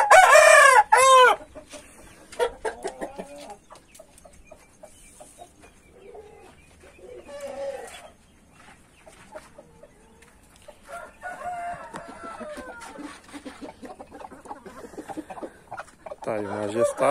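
A rooster crows loudly up close at the start, followed by scattered clucking and bird calls, with another crow near the end.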